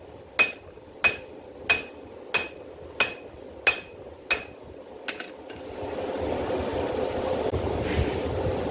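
A hammer strikes hot steel on an anvil while forging a herb chopper blade, seven sharp ringing blows at an even pace, close and loud, followed by a quick clink and then a rising roar of forge noise.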